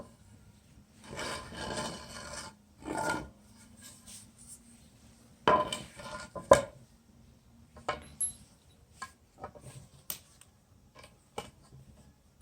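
Screws being started by hand into wood while building a chicken coop, heard as scattered rasping and scraping bursts with a few sharp clicks and taps, close and fairly quiet, with no talking.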